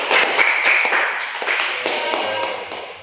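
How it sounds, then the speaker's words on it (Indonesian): Audience clapping for a student group after their presentation in a classroom, a steady patter of many hands at moderate loudness running the full length, fairly close and without talk. "Sekali lagi kasih aplaus untuk kelompok"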